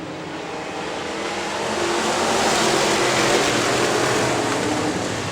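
IMCA Modified race cars racing at Crystal Motor Speedway, a steady loud roar of engines heard from a distance, swelling slightly midway with no talk.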